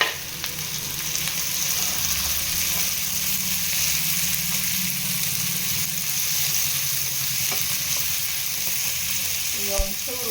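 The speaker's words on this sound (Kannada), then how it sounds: "ಈರುಳ್ಳಿ ಫ್ರೈ ಆದಮೇಲೆ ಚೂರು ಕ್ಯಾಪ್ಸಿಕಮ್ ಕಟ್ ಮಾಡಿ ಇಟ್ಕೊಂಡಿದ್ದೆ, ಅದನ್ನು ಸೇರಿಸ್ಕೊಂಡಿದ್ದೀನಿ." Chopped onion and capsicum fry in a pan for a snack of bread toast, giving a loud, close, unbroken sizzle with occasional stirring scrapes and a clink near the end.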